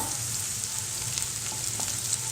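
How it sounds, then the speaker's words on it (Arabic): Grated garlic frying in a pan, made to go on salmon: a steady, even sizzle that stays close and fairly quiet throughout, with faint stirring taps. "بنحط عليه ثوم مبشور ونحمره"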